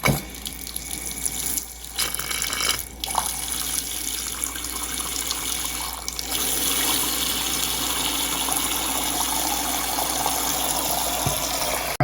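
A bathroom sink faucet in a new cabin build runs steadily, a close, continuous gush of water filling the basin, briefly interrupted near the start and then flowing on evenly without any voices.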